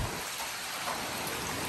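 Rain pouring off house gutters and out between the fascia board and gutter of a metal roof, a dense, steady hiss of falling water and splashing, continuous and close with no speech.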